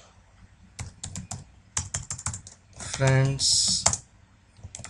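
Rapid keystrokes on a computer keyboard while entering Python code for a PyGame window, close clicking bursts in uneven runs, with someone speaking over the typing in places.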